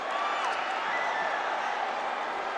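Loud, sustained crowd roar filling a basketball playoff game at Batangas City Coliseum, a continuous wash of cheering voices with no clear breaks.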